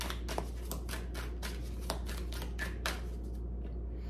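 Tarot cards shuffled by hand during an Aries reading: a quick run of soft, papery riffles and slaps, close and fairly quiet, steady throughout with a faint low background hum and no talking.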